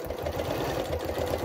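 A sewing machine stitches a fabric car-seat pocket 1 cm from the edge, a steady fast mechanical chatter running evenly throughout at moderate loudness with no talking.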